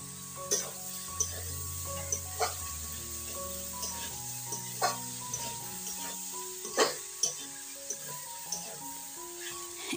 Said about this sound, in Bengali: সবগুলো সেদ্ধ হয়ে গেছে, এবারে এতে দিয়ে দেব সেই সেদ্ধ করা নুডলস